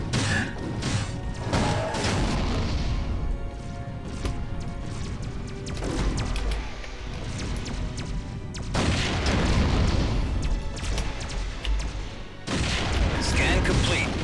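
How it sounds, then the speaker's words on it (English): Space-combat gunfire and explosions from the video game Wing Commander Prophecy, with dense, loud, continuous bursts, booms and crashes layered over a roaring engine bed. "And Casey, that's me you're shooting at."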